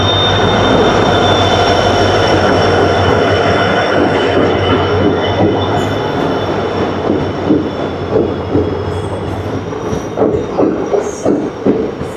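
A passenger train rolls into a station with a long, loud rumble and grinding wheel noise, then clanks and thuds become more distinct as it slows.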